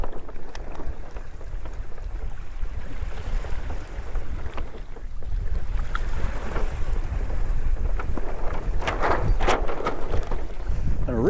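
Strong wind buffets the microphone while sailing a Hobie Outback kayak on a broad run through choppy water, a constant loud rushing roar with splashing and no speech.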